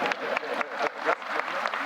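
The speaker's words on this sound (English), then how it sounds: "Yeah, you can applaud that." Crowd at a university presidential investiture ceremony breaks into applause for inauguration sponsors, a dense, lively patter of many hands with brief surges.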